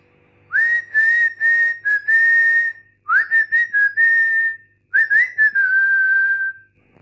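Someone whistles the València anthem in three clear, loud melodic phrases separated by brief pauses, sustained notes with quick ornaments, with no talking.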